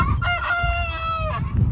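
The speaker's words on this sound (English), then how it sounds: "This rooster's pretty cool too, Americana rooster." An Americana rooster crows once, close and loud, a long drawn-out call that holds a steady pitch before dropping off, over faint background sounds.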